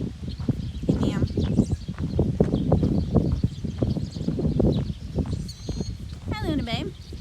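A horse moves about close by, its hooves clip-clopping in an uneven rhythm beneath someone talking steadily throughout.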